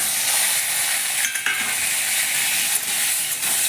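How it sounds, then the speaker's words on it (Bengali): Potatoes frying in a little oil in a pan while making a pumpkin dish, a steady bright sizzle holding throughout with a few faint stirring scrapes, no talking. "এবার আমি আলুটাকে ভেজে নিচ্ছি।"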